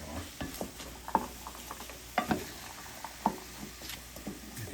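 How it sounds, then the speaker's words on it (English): Lasagna soup ingredients cook in a pot over medium heat with a low, steady sizzle, broken by a few sharp stirring scrapes and clinks from a spoon; close and moderately quiet, with no talk. "You want to keep hearing that little sizzle"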